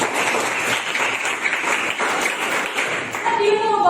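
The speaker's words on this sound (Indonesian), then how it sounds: "Tepuk tangan dulu." Students clapping in a classroom, steady applause for several seconds, with a voice and some brighter tones near the end.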